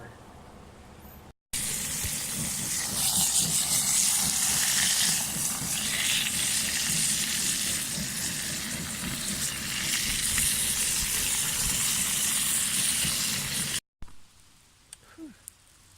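Wild spinach (marok) cooking over a campfire at a bushcraft camp, a steady close sizzle and hiss of steam and frying that runs unbroken for about twelve seconds before cutting off.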